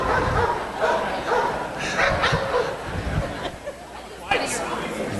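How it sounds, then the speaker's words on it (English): A Fresno police K-9 dog barks a few times in a city council chamber, short loud woofs mixed with crowd chatter, chuckles and laughter. "Oh, that's Fresno PD K-9."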